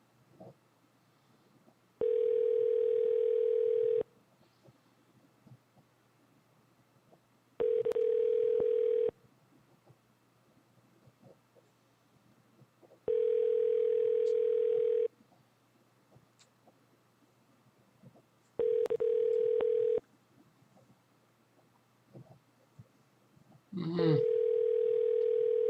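A phone call's ringback tone repeats in long steady beeps of about two seconds, separated by pauses, loud and clear over low line noise, with a brief voice near the end.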